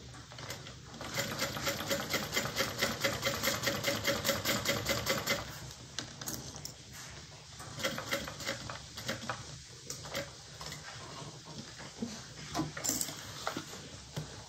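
A sewing machine stitches a bag with a fast, even mechanical rattle that runs for several seconds, pauses, then resumes in shorter, more uneven runs.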